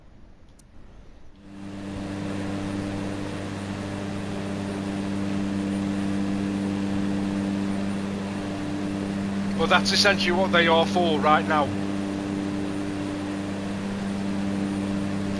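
A steady, droning aircraft engine hum from Microsoft Flight Simulator 2024 on PS5 Pro runs throughout, with someone talking over it partway through.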